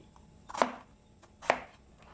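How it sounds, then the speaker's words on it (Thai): A kitchen knife slices through long eggplant on a cutting board, making two distinct, fairly crisp chopping strokes about a second apart in a quiet room. "หั่นมะเขือให้ยาวเท่าๆกัน"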